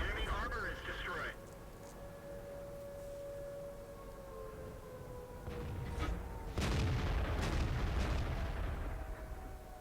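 A 105mm tank destroyer gun fires in World of Tanks, with heavy booming blasts in the second half set against engine rumble, a siren-like whine, and battle ambience.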